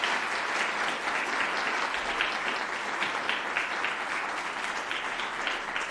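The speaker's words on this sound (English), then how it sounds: "if we could all give them another round of applause" An audience at a public panel event on 100 years of zoning in Cambridge keeps up steady, dense applause for the panel, a full roomful of clapping that stays even throughout without a break.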